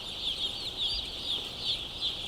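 Chickens in a brooding chamber, newly placed birds drinking, eating and searching, give a dense, steady chorus of high peeping and clucking with no voices.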